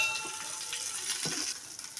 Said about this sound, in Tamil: இதை நல்லா ரோஸ்ட்டாக வறுத்துக்கலாம்.